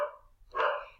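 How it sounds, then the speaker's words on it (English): A dog barks indoors, one short bark followed by a second louder, fuller bark a moment later, both fairly close and heard alone with no talking. "Oh, that was the dog."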